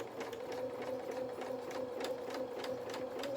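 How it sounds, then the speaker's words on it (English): Sewing machine stitching fabric for a stuffed donkey toy. A close, fast, steady mechanical whir with even needle ticks runs throughout, and no one speaks. "we're going to then stitch across"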